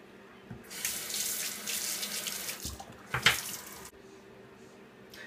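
Water runs from a bathroom tap while rinsing off after a shave, a steady splashing stream broken by hand movements and a brief louder splash, close and alone, cutting off near the end.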